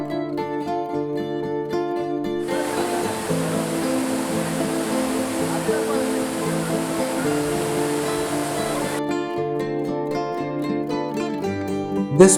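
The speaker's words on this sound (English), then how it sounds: "and here is the waterfall" A steady broadband rush of falling water at Zarwani Waterfall, near the Statue of Unity in India, continuous and fairly loud, with music playing underneath throughout.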